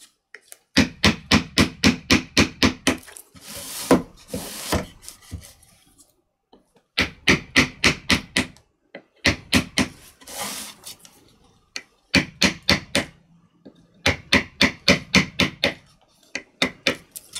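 Chisels hammered into wood, striking in rapid bursts of sharp, ringing knocks, about eight blows per burst, with short pauses between groups; close and loud, with no speech.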